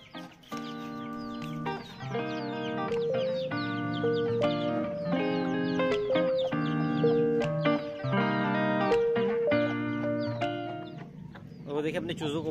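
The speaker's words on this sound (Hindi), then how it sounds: "देखिए अपने चूज़ों को बाहर बुला रही है" Hen in a backyard cage calling her week-old chicks out with repeated clucks, close and clear, alongside other birdlike calls and a voice speaking at points.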